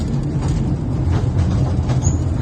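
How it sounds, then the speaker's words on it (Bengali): Inside a moving bullet train, a steady, loud, even rumble of the carriage fills the space without breaks or voices. "এই যে বুলেট ট্রেনে উঠছি"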